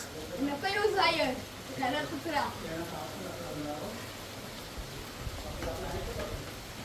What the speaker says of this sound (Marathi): मी बाहेर पडलो आणि पाऊस आलाय